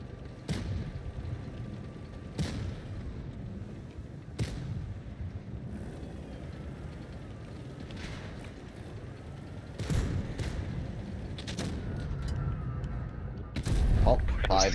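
A tank's main gun fires in a tank video game: several heavy, booming shots spaced irregularly over a constant engine rumble, each a sharp close blast, with a louder burst at the very end.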